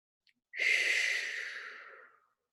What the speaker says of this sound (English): Nice deep breath here.